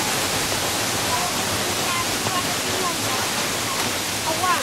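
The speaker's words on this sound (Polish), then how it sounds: "Pozdrawiamy z nad wodospadu." A waterfall roars as a dense, continuous broadband rush, loud and close and steady throughout, with faint voices occasionally heard beneath the water.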